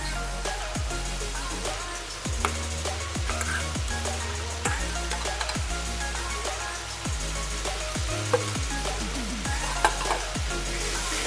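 Ginger garlic paste sizzles and fries in rendered mutton fat for mutton-fat ghugni, with repeated scraping stir strokes at a steady rhythm over a constant close, loud frying hiss, no voices.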